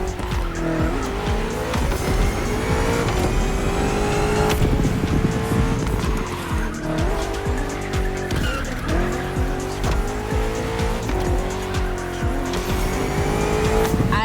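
A BMW M CS races hard on a road in The Crew Motorfest, its engine loud and close, climbing and dropping through gears, with tires squealing through corners over a constant roaring drive.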